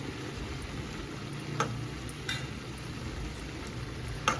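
Small bitter gourds (kakarakaya) fry in a pan with a steady hissing sizzle, close and even, broken by a few sharp spatters and stirring clicks, no talk.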